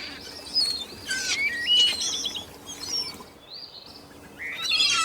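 Two hawk chicks in a forest chirp in high, repeated thin calls, close and fairly loud against a soft background of forest ambience, with short pauses between bursts.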